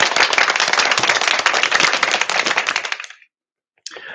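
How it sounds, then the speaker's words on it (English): A quick burst of dense hand clapping lasts about three seconds and then stops, followed by a short faint rustle. "Claps."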